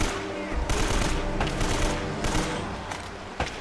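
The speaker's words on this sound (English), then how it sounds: "they start shooting at you before you have real cover" Enemies fire guns at the player in the video game Uncharted, with dense, rapid bursts of gunfire that layer into a continuous fusillade throughout.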